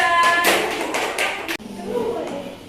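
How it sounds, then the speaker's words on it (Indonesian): A short burst of clapping from a classroom group of students, brisk and close, which stops abruptly partway through and leaves a quieter room behind. "Tepuk tangan untuk kelompok 2."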